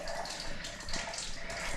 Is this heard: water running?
yes